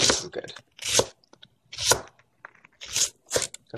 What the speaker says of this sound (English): I'm gonna slice up all the onions